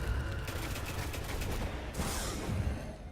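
Continuous gunfire in the shooter game Destiny, a dense fusillade of rapid shots and bursts rolling on for the whole stretch with no voices over it.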